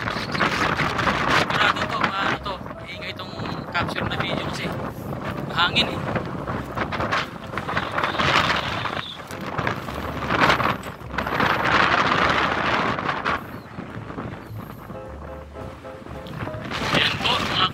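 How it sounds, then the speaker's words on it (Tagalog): Strong wind buffets the microphone continuously in Batangas, Philippines, a loud, roaring rumble with gusty surges throughout. "Lakas ang hangin."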